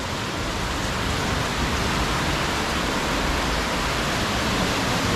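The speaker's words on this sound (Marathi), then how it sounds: "पावसाचा आवाज कसा येतो पत्र्यावर" Heavy rain pounds a metal tin roof in a dense, loud, unbroken roar of hiss and drumming that stays constant throughout, with no talk over it.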